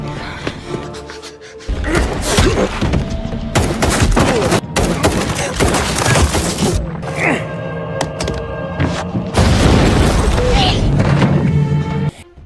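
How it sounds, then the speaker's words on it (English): Rapid bursts of gunfire and heavy thuds fill a movie shootout between men firing at each other, loud and dense throughout with short pauses, mixed with other action noise. "He eventually engages in a shootout with Carlos, but both the men play defensive and fail to hit each other."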